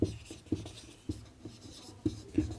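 Chalk or marker strokes on a board, a series of soft scratchy taps and short scrapes at an uneven pace, heard close with no speech over them.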